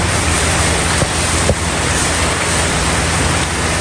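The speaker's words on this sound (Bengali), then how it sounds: "সারাদিন লাগাতার বৃষ্টি হচ্ছে" Heavy, continuous rain falls outdoors as a loud, dense, steady roar that never lets up, with a couple of faint knocks and no speech.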